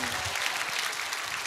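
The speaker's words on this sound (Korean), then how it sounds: "박수!" Dense, steady audience applause fills the room during a Korean political speech about parliamentary seats, loud and continuous without a break.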